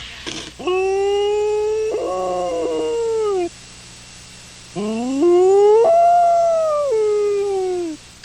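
Iditarod sled dogs howling in long, rising and falling harmonic cries, two sustained bouts with a short gap between them, close and loud with several voices overlapping.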